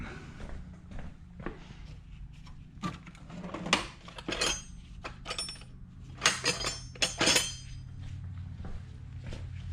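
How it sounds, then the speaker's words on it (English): A wrench works a part on a Dry Lakes tribute roadster, with sharp metallic clinks and rattles at irregular intervals over a low background hum. "Let's get a wrench over here and tighten that up."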